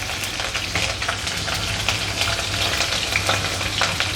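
Cumin seeds and green chillies frying in hot oil, a dense steady crackling sizzle close up and continuous throughout, with a low hum underneath.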